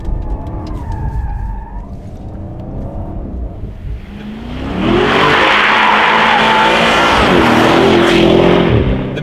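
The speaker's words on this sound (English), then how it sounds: "So coming out of slow turns especially, it gets very tail-happy." A 2017 BMW Alpina B7 xDrive luxury sedan with rear-biased power pulls out of a slow turn, its engine first murmuring low, then swelling into a loud, sustained hard-acceleration roar with a hint of tire noise.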